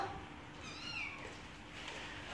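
A Scottish Fold cat meows indoors during grooming, a short rising mew standing out faintly against steady background hiss, heard alone without speech.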